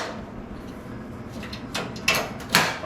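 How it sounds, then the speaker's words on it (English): Latches clicking shut on a 22-tray food dehydrator, heard as two or three short plastic snaps close together over a quiet room hiss, with the last snap loudest. "You got dual latches here."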